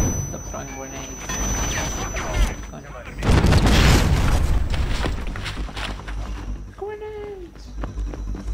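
Grenade blasts in the GoldenEye video game, a heavy booming burst midway through, set against ongoing game noise and excited talk from players.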